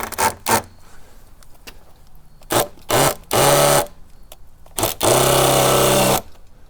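A cordless drill drives a screw extractor bit forward into a stripped screw from a DeWalt or Speed Out extraction set, in short bursts and two longer whirring runs, loud and close.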